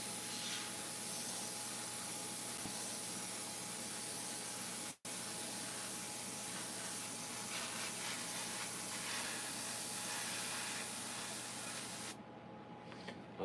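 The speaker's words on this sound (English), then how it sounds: "I had a woman get upset that I was airbrushing." An airbrush sprays paint onto chainsaw carvings in a steady, loud continuous hiss, pausing briefly once and trailing off near the end, with no talking.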